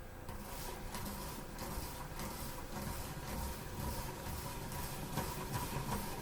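Hand-cranked spiralizer cutting zucchini into noodles, a faint rhythmic grinding and clicking with regular crank strokes roughly every half second, continuing throughout.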